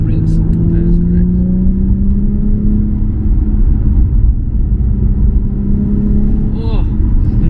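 A Nissan 350Z HR sports car engine drones steadily at high revs, its pitch climbing slowly, with road rumble underneath and a brief shift near the end.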